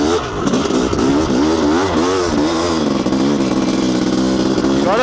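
A Honda CR500 two-stroke motorcycle engine revs hard under open throttle on tight single-track enduro terrain, a loud, continuous close-up roar with rising and falling pitch sweeps throughout.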